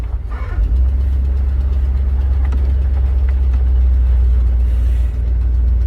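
A 1977 Chevy Camaro, parked for almost twenty years, idles with a steady low engine drone, its tone shifting slightly as the transmission is put into gear, with no talk over it.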